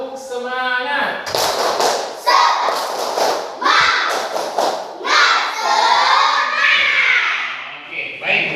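A class of children doing a rhythmic spirit clap, claps and shouted chanting in unison, loud and close, with voices throughout.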